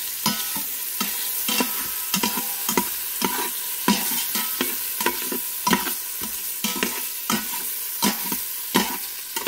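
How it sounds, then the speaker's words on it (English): Ingredients for homemade menudo sautéing in oil in a pan, a loud, constant sizzle punctuated by rhythmic spatula scrapes and knocks roughly every half second. "we're just going to saute all this down up in here"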